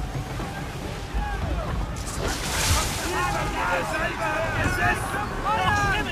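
A sailing ship running with the wind in Assassin's Creed 3, a broad rushing wash of wind and water with creaking and sea noise, loud and continuous, with a voice talking over it.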